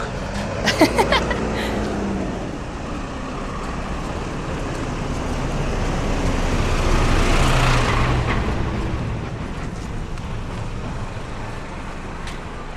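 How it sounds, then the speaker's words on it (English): A truck passes along the beachfront promenade road in Marmaris, Turkey, its engine rumble swelling to a loud peak midway and then receding amid general street and traffic noise. "And here's a truck."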